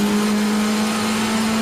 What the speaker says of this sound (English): listen to the engine note, just balancing the car on the power through Bridge Corner